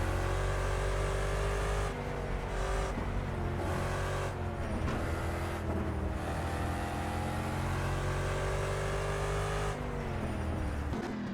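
A race car engine roars continuously on a Nürburgring Nordschleife lap in the Project Cars racing game, loud and close, with repeated rises and drops in pitch as it revs and shifts gears.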